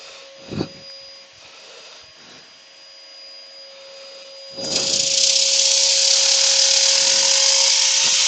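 A turned wooden bowl is sanded with 60 grit abrasive: a quiet whining hum with light knocks gives way halfway through to a loud, steady, hissing rush of abrasive against spinning wood.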